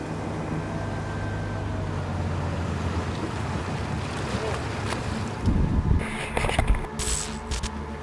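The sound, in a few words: river police boat approaching on the water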